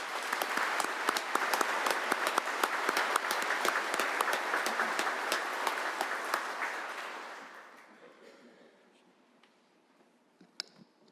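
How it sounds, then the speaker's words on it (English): An indoor audience at a state senate Memorial Day service gives sustained applause, dense and steady for about seven seconds before thinning into a few scattered claps and going quiet. "If we could join them with a round of applause."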